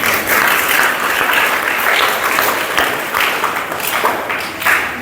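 A church congregation at a Telugu Catholic service claps loudly in praise of God; a steady, dense round of clapping that swells and dips slightly across the few seconds, with no clear talk.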